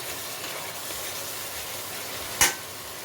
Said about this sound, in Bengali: এটাও ভালো মতো মশলার সাথে কষিয়ে নিতে হবে।